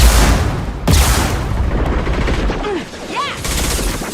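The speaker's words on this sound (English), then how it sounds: "Shotgun! There we go!" Shotgun blasts in Mass Effect 2, two heavy close booms about a second apart followed by combat noise and chirping game effects.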